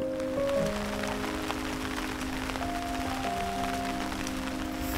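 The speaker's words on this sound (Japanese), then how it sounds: "雨の音してますね。" Steady rain falling at a forest campsite in rainy weather, a continuous soft patter heard close by with no talking over it.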